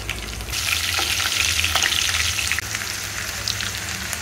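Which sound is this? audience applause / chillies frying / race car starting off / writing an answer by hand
chillies frying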